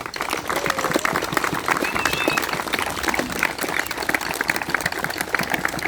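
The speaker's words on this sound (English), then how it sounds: "give both our speakers another big round of applause" Outdoor audience applause for two speakers at an event with a band, steady dense clapping throughout with crowd murmur and a few voices mixed in.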